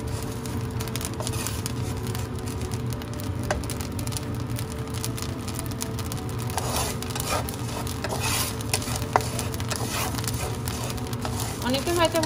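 Puffed rice roasting with salt in a pan is stirred continuously, a steady gritty rasping and sizzling scrape with occasional light ticks, close and moderate, while a person talks over it.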